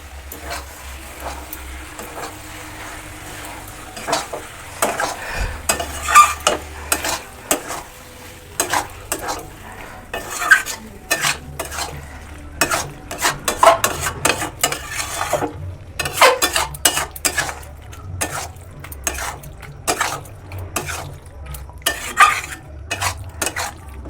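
Soya chunks being stirred and fried in a pan with chili, tomato and soy sauces: a steady low sizzle under frequent scraping and clattering of a utensil against the pan, alone without talk.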